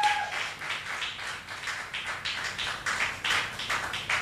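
A church congregation claps together in acclamation, a quick, steady run of many hands in rhythm, close and continuous, with faint voices in the background.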